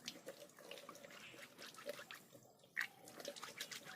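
Hands are washed under a tap running fairly hard, giving a steady faint splash and trickle of water into a sink with a few brief drips and clicks and no talking.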